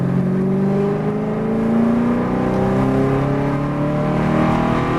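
A V8 race car engine drones loudly and continuously up close as the car powers out of a corner, its pitch climbing steadily under acceleration.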